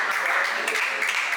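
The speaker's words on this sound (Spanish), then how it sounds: "aplausos" Crowd applause at a freestyle rap battle, a steady wash of clapping and noise from the audience, fairly loud and continuous over the short span.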